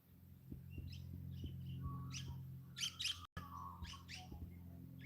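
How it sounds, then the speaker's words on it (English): Small birds chirp and tweet in short bursts over a low steady hum outdoors, the calls fairly close and scattered irregularly. "Hear the birds."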